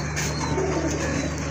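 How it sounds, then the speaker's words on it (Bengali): Pigeons, a pair of red bird Damascene pigeons kept for sale, coo softly and repeatedly under a steady low hum, with no one speaking. "আরেক জোড়া কবুতর দেখতে পাচ্ছেন, খুবই সুন্দর রেড বার্ড দামাচিন কবুতর।"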